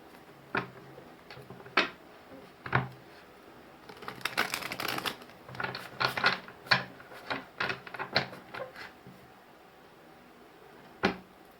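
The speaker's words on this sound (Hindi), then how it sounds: "सबसे पहले हम ऑरेकल कार्ड से भी कुछ निकालते हैं। 2 कार्ड निकालूंगी यहाँ से।" Oracle cards drawn and handled from a deck during a tarot reading, giving a string of crisp papery flicks and slides, with a busier cluster of shuffling in the middle and a final snap near the end.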